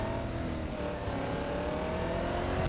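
Racing car engines in the mobile game Real Racing 3 drone steadily at high revs, a dense continuous roar with slight pitch rises as cars pass, no voice over it.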